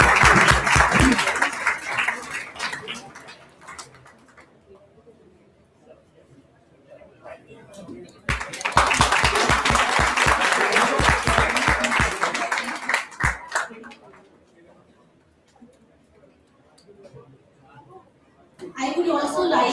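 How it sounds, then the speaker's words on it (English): Physiotherapy conference attendees break into loud rounds of applause to welcome a speaker: a short burst at the start, a sustained wave in the middle and another beginning at the end, with quieter murmuring in between. "With a huge round of applause again."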